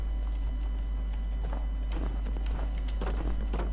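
A horse's hooves clip-clop in Minecraft: a loose series of soft hoofbeats over a constant low background hum, with no talk.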